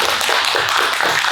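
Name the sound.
audience clapping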